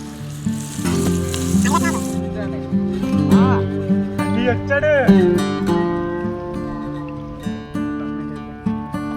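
Paneer frying in oil for biryani, cooked outdoors on a farm field bund, a steady sizzle under people talking and singing-like voices close by.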